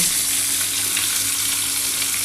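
Sliced teasel gourd (kakrol) sizzling in hot oil in a pan, a loud, steady, unbroken frying hiss that runs throughout with no voices.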